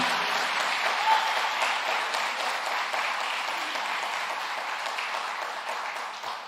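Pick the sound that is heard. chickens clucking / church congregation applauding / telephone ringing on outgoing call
church congregation applauding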